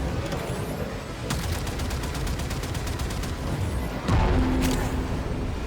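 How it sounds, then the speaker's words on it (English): Torpedoes launched at a capital ship in Warframe, sounding as rapid bursts of sharp gunfire-like blasts with a few louder booming impacts, dense and continuous throughout. "I want torpedoes armed and dispatched now"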